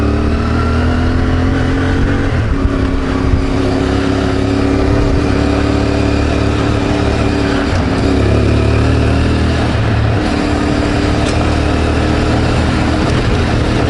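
A CFMOTO 450 MT motorcycle engine drones steadily and loudly while riding, its low rumble rising and falling slightly with throttle, continuous and close throughout.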